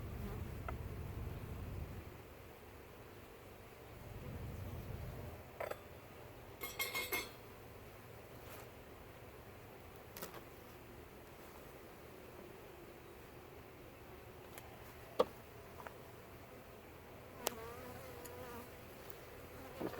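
A faint, continuous buzz of many honeybees inside a hive box, with occasional light clinks and knocks over the low hum.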